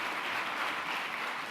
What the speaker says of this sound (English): Let's get another round of applause for Brother Tracy.